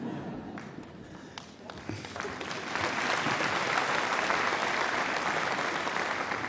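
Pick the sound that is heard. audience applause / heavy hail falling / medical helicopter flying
audience applause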